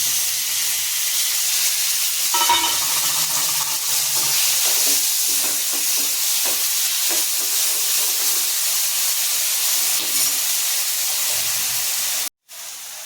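Ground raw mango chutney goes into hot oil, tempered with mustard seeds and curry leaves, and keeps up a steady, loud hissing sizzle while a spoon scrapes and stirs through it, ending with a brief cutout.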